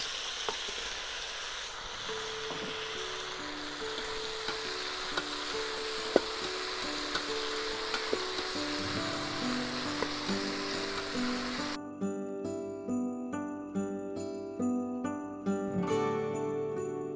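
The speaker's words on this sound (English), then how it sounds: "Our saute is nicely done. I've sauteed it for like 5 minutes." Tomatoes and vegetables sauté in a pan for bisibele bath, giving a soft steady sizzle close by, joined partway through by brief stirring and clinking sounds.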